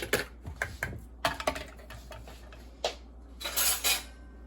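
A spoon mixes biscuit dough in a bowl with a series of sharp, irregular scrapes and clacks against the bowl's sides, close and fairly loud, pausing briefly between strokes.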